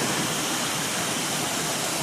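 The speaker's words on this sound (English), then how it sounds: "look at this beautiful waterfall" Waterfall at a cabin in Swatara State Park, Pennsylvania: steady, dense rushing water noise, even and unbroken, fairly soft, with no voices.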